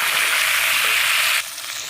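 Potatoes and flat beans stirred and frying in a pan of oil for a Bengali fish curry with eggplant, a loud continuous sizzle that drops away abruptly near the end as the stirring stops.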